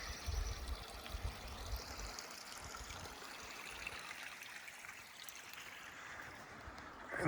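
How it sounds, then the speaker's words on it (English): A creek flows below an off-grid Alaskan homestead, its steady watery rush and trickle holding an even, moderate level throughout with no voices. "And the creek is right down in that area there."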